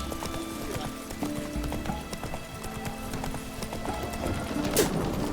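A horse's hooves clip-clop steadily on the ground in The Witcher 3, a continuous rhythmic trot that is moderately close, and there are faint game ambience sounds.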